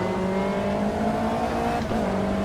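A steady, droning race car engine in the video game Automobilista 2 hums at constant revs, with a brief dip and shift in pitch partway through, continuous and fairly loud.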